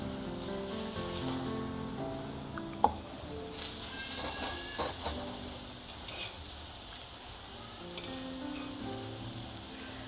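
Chopped onions sizzle in hot oil in a pan while fish curry spices cook, making a soft, steady frying hiss with faint occasional crackles and a stir or two, quiet and close, with no talking.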